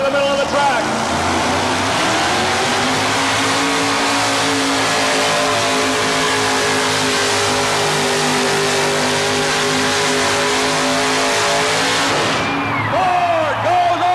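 A Ford stock car's engine roars at high RPM as the green flag drops at a 1987 Charlotte race, a loud sustained drone that swells and then shifts near the end, with commentators talking over it.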